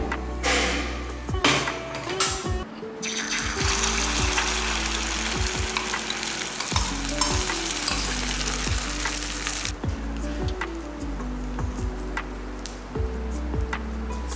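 Oil sizzles steadily in a hot ladle as it is spread around with a spoon for a fluffy omelette, with a continuous close frying hiss and repeated scraping strokes throughout.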